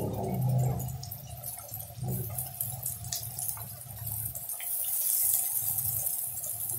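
Ground curry leaf and coconut paste is poured from a mixer jar into a pan of tamarind curry, giving a steady, close, wet gurgling and splashing that runs for several seconds.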